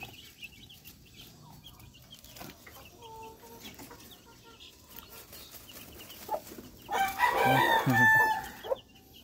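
Backyard chickens and young chicks cluck and peep outdoors, with a rooster-like crow and busy, louder clucking rising toward the end over steady background noise.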